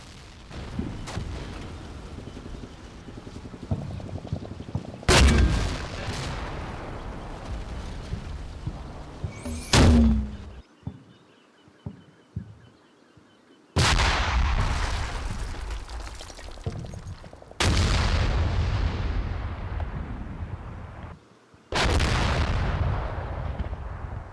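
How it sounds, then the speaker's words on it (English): Mortar fire in the tank-battle game Combat Mission Red Thunder lands as five heavy booming impacts spaced several seconds apart, each a loud blast with a rumbling decay, with quieter crackling and distant battle noise between them. "Mortar fire at spotted enemy contacts."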